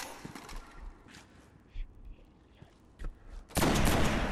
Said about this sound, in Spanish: Yo le disparo también, por si acaso.